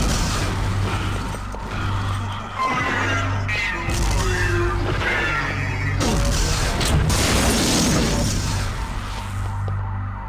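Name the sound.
grenade explosions in video game System Shock 2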